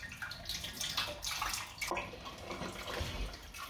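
Lukewarm tap water running over sausage casings as they are rinsed, a continuous splashing, trickling flow close by, steady throughout with small surges and drips.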